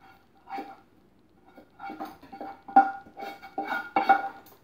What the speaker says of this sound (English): I'm going to just add my onions and garlic to this pot